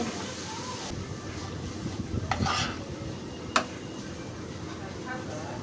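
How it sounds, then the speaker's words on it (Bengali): Beef being stirred and mixed with chili powder in a pan, giving soft scraping and clinking of the utensil with a few sharper knocks against the pan, over a steady low background. "এই যে দিয়ে এখন নাড়াচাড়া করে দিতেছি, মিক্স করে দিতেছি, ভালো করে কষাবো এভাবে নাড়াচাড়া করে।"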